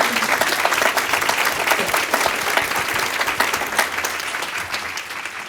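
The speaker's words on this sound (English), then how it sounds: "Let's give them another round of applause," An audience at a peer recovery conference session applauds its panelists with dense, steady clapping from a large crowd, strong and continuous before tapering slightly toward the end.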